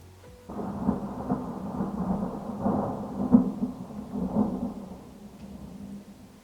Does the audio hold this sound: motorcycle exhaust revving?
no